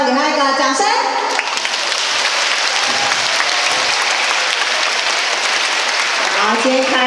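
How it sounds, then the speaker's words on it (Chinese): Children applaud a teacher at a school award presentation, a loud, dense burst of clapping. An adult voice speaks over the start and again as the clapping fades. "来，小朋友给他一个掌声"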